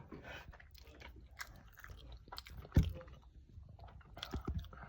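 Close, wet chewing and biting on a very soggy leftover taco shell eaten with taco rice, soft irregular mouth sounds with one sharper crunchy bite midway and a few more toward the end.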